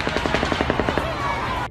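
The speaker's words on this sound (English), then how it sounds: "here's the high frequency sound wave of bullet strikes, followed by the low frequency rifle report" Rapid bullet strikes hitting pavement followed by distant rifle reports at a Las Vegas crime scene, a quick string of sharp cracks over a dense background roar that ends abruptly.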